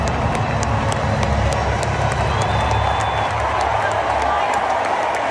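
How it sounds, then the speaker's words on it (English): A large rally crowd for Trump roars and cheers in a steady, dense wash of voices, loud and sustained throughout with no individual speech standing out. "They're cheering for Trump."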